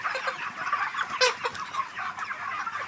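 Healthy farm chickens cluck and call in an uneven run of bursts, fairly close, with one sharper squawk partway through and no talking.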